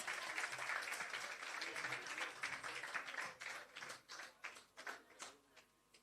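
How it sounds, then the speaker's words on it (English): Audience applause at a handing-over ceremony for a shelter recovery roofing programme, as a man named Brandon is welcomed on stage: steady dense clapping that thins into scattered, separate claps and fades out. "Give Brandon a round of applause."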